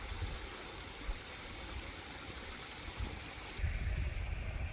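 Water from a pond and creek flows steadily through a garden hose as a faint, continuous rushing wash. A low rumble swells near the end, with no voices.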